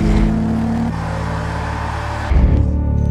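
A Volkswagen Golf GTI Rabbit Edition engine revs up loud and close, holding a steady drone before a sharp surge near the end, with no talking.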